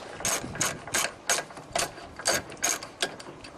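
Ratchet with an 8 mm socket on an extension loosening screws, giving close, quick clicking strokes in a steady rhythm of about a dozen ratcheting bursts, with no talking.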